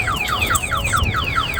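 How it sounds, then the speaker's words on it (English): A car alarm from an aftermarket Compustar anti-theft system blares a rapid, repeating falling siren chirp, loud and close, sounding alone. "The alarm's going off."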